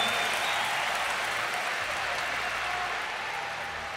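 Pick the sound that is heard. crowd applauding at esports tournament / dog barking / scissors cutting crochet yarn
crowd applauding at esports tournament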